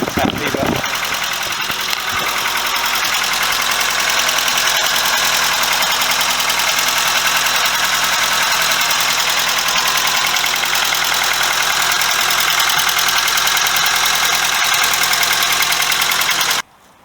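A Volkswagen Golf MK2, just back from a cylinder head gasket repair, idles steadily and loudly nearby with a slight ticking tappet noise, then stops abruptly near the end.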